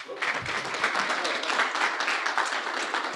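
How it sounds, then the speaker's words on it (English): Audience applause at a thermal compliance presentation, an even, sustained round of clapping from a moderate crowd, somewhat soft and continuous with no talking over it. "You guys want to give him a round of applause?"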